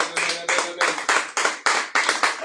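A church congregation applauds during a worship service with loud, rhythmic clapping that swells in regular bursts about twice a second.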